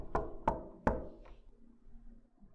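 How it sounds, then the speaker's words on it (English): Video game knock on a door in The Convenience Store: three sharp knocks in quick succession, then a fainter fourth, ringing slightly in a quiet room. "Someone knocked on my door."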